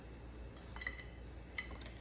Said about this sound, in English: Oh my gosh, she's cutting on her plate.